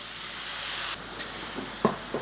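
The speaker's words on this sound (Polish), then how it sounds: "później smażymy, aż cała woda wyparuje" Spinach sizzles and hisses in a hot pan as its water cooks off, a steady frying noise that cuts off, followed by a few soft clinks and stirring sounds.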